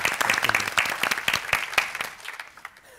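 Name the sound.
studio applause on a game show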